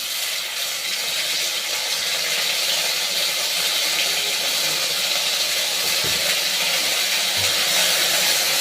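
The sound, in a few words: cumin and ginger paste sizzling in hot oil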